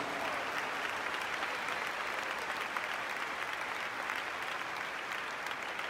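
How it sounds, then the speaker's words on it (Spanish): A congregation applauds during a church convention service, dense and continuous clapping from a large crowd that holds steady and loud throughout, with no voices standing out above it. "¿Alguien quiere brindar un aplauso al Señor aquí donde está?"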